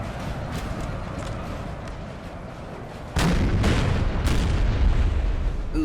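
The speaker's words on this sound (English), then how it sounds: "Ooh, this artillery." Artillery fires during a large Battle of Aspern-Essling fight in the video game Napoleon Total War 3, with a constant rumble of battle that jumps into a heavy boom partway through, then further deep blasts.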